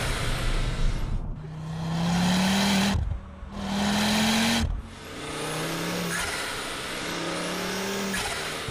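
A Ford Focus RS engine revs hard in rising pulls, roaring loudly with brief gaps between gear changes, the exhaust note climbing again after each shift, heard up close with no talking.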